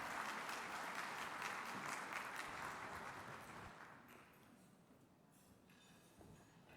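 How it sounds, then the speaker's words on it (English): Conference audience at a plenary session of the 2023 Governor's Conference on Housing and Economic Development applauding the acting commissioner, a dense steady round of clapping that gradually thins and fades toward the end. "Why don't you give a round of applause for our DCA Acting Commissioner"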